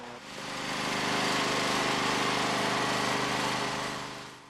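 A John Deere L100 riding lawn mower engine runs with a steady, loud droning hum that swells in and fades slightly at the end, with no talk over it.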